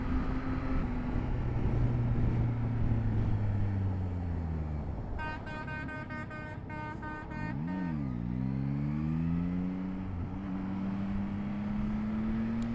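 Yamaha motorcycle with an R9/MT-09 engine in an MT-09 frame with an extended swing arm, riding through traffic with a steady engine drone, rising and falling revs, and a passing horn-like tone midway.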